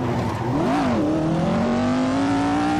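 Peugeot 306 Maxi rally car of roughly 300 horsepower on a rally stage in the Var, its engine loud and close, with pitch dipping and rising through gear changes and then climbing steadily under acceleration.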